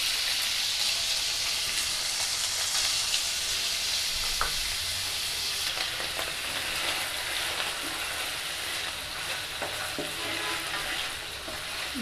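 Chicken pieces fry in a couple of spoonfuls of oil, a dense, steady crackling sizzle with occasional sharper pops and stirring clicks, close and continuous for twelve seconds without talk.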